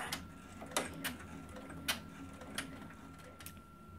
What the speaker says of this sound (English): I'm just going to go ahead and stitch that square all the way around